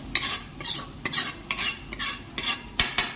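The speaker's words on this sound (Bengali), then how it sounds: "এবার মাংসটা দিয়ে দিচ্ছে।" Goat meat is turned through frying spices with a spoon in a pan, giving a regular series of about eight scraping stirs against the metal over a faint sizzle, close and clear.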